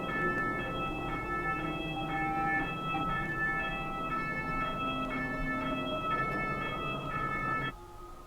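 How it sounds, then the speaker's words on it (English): An ambulance siren in the horror video game ROAM0120 wails in a repeating, steady up-and-down pattern at moderate volume over a low background hum, then cuts off abruptly near the end, with no voices. "There's an ambulance."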